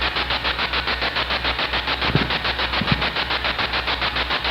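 Spirit box device sweeping through radio stations, giving a loud, steady stream of rapid pulsing static bursts in an even rhythm throughout, with a couple of faint low thumps partway through and no talking.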